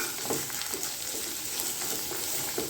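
Sliced onion sizzles and fries in a hot pan, with occasional stirring scrapes, a steady crackle throughout.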